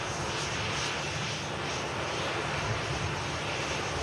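Ryanair airliner at an airport with its engines running as it taxis, a steady broadband jet roar that holds throughout at a constant moderate distance, with no voices over it.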